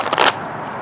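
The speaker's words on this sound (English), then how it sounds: "Shuffle." Tarot cards shuffled by hand, a short papery riffling burst that lasts about a third of a second before fading into quiet room tone.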